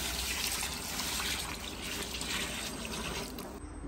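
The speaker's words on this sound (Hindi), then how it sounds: "अब हम इसमें पानी डालेंगे।" Water pours into a large cooking pot of tender meat for a big batch of Afghani Kabuli pulao, a steady rushing splash heard close and continuous throughout.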